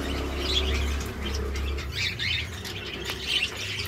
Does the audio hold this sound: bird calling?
yes